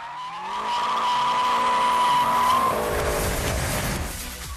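A BMW M5 on a racetrack screams through a rising engine note, then its tires squeal loudly in a drawn-out skid close by, fading at the end.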